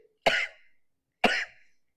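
Two sharp coughs, about a second apart, close and fairly loud, with silence between them.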